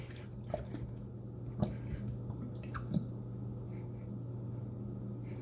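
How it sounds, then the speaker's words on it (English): Steak sauce from a 5-ounce bottle glugs and drips into meatloaf mix, giving soft wet squishes and splats with a few sharper drops, quiet and close over a low steady hum. "we're going to add a 5-ounce bottle of steak sauce"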